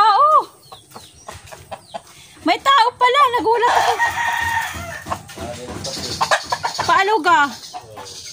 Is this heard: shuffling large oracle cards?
no